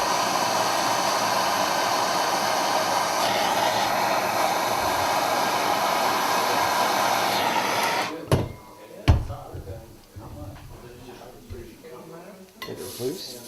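Heat gun blowing on a brass chimney cap under restoration, a steady loud whooshing roar for about eight seconds that then cuts off, followed by clinks and handling noises as work continues.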